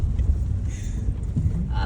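A car creeps slowly along a rough, uneven trekking road toward the Kataldhar waterfall, giving a steady low engine rumble with faint bumps and scrapes throughout.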